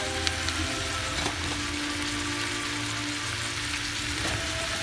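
Rice sautés in a pan on a hot burner over medium heat for a curry dish, giving a steady, continuous sizzle and frying hiss at an even level throughout, with a low hum beneath.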